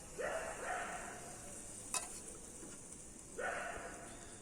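Buttered fish sizzles on a barbecue grill with a soft, steady hiss, overlaid by two brushing swells of butter being applied and a brief sharp tap in the middle.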